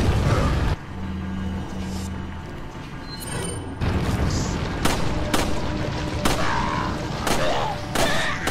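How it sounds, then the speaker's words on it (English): A grenade explosion in the Resident Evil 4 video game: a loud opening blast with rumble, then a string of sharp, booming shots and impacts spread across the clip. "let's just use a grenade"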